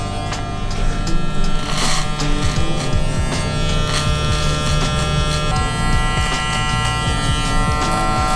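Hair clippers fitted with a number 2 guard blend a skin fade, giving a steady, close, continuous electric buzz for the whole stretch with no talking.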